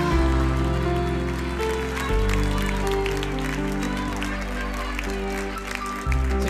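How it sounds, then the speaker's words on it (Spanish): Studio audience applause on a Chilean TV talent show, clapping running under loud sustained music with deep chord changes throughout, the hands fairly buried beneath the music. "Un aplauso Jorge para él."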